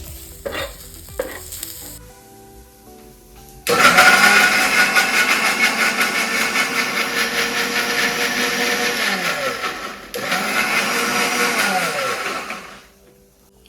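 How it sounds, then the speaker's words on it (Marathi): After a few quiet kitchen clatters, a mixer grinder roars to life grinding a tomato into fine paste for a Veg Maratha curry, running loud and steady for several seconds, briefly pausing, then resuming before stopping. "टॅमॅटो तेवढा मिक्सरला बारीक पेस्ट बनवून घेऊ आपण"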